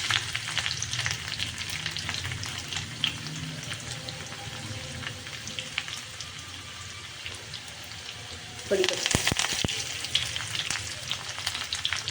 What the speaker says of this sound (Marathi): आता आपली फोडणी छान तळली गेलेली